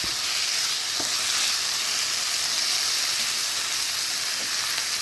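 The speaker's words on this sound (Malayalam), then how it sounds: "അപ്പോൾ ഈ ചക്ക കൂടി ഇതിലിട്ട് നന്നായിട്ടൊന്ന് വഴറ്റി കൊടുക്കുക." Jackfruit sautés in a pan for a masala curry, giving a constant loud hiss and sizzle of hot oil close up, with a few soft knocks as it is stirred and no voices.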